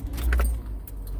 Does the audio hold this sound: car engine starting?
yes